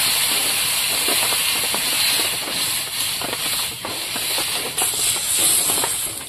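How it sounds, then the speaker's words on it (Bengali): Water is poured into a hot pan of Mourola fish curry with chilli, giving a loud, continuous hiss and sizzle that carries through the whole stretch with a few bubbling crackles. "এবার জল দিয়ে নেবো।"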